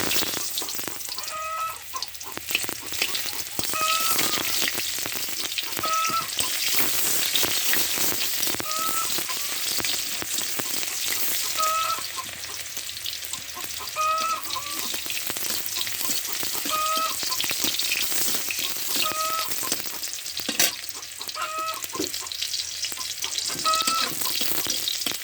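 Dried red chillies and chopped onion frying in hot oil in a wok, a steady bright sizzle running continuously with occasional stirring scrapes and distant rooster calls in the background.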